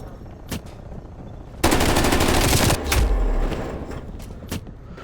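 A loud burst of automatic gunfire from Call of Duty Cold War, a rapid sustained run of about a second followed by a heavy boom and a few scattered single shots, with no talking.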